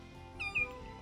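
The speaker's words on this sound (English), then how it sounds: "This is a baby cat." A baby cat in The Sims 4 Cats & Dogs gives two short, high meows in quick succession, close and clear over a faint steady game background.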